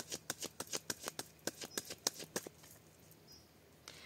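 Tarot cards are cut and riffled by hand during a reading, giving a quick run of crisp close flicks and snaps that slow and thin out into scattered soft taps, with no talking.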